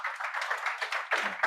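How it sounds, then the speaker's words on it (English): Brief burst of audience clapping welcoming a speaker onto the stage at a technology competition grand finale, a dense patter of hands close and fairly quiet, with no voices over it. "Big hand of applause"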